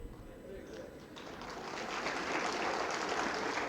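Audience applause in a hall during a talk by a Postmaster General, starting soft and swelling into steady, dense clapping over a few seconds.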